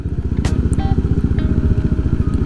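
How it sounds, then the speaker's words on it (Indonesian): A motorcycle fitted with a loud aftermarket exhaust idles or rolls through a residential street near the beach, its rapid, even pulsing throb close and dominant, with a couple of brief clicks on top. "Kalau masuk ke pemukiman gini tuh jujur nggak enak sih pakai knalpot berisi kayak gini."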